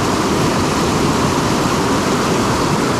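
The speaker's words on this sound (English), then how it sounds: "Nice little stream crossing here" Water rushing steadily at a shallow stream crossing on the Minaret Burn Track near Wanaka, a loud, continuous broadband wash close by with no voices.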